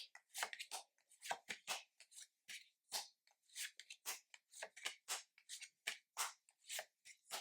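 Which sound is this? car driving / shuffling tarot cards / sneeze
shuffling tarot cards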